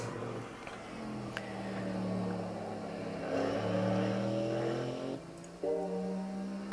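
Road car in the racing game Assetto Corsa Evo, its engine humming with rising and falling harmonics, low crackles and pops scattered through the overrun, steady and close for several seconds.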